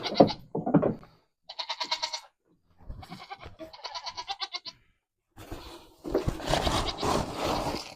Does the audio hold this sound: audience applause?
no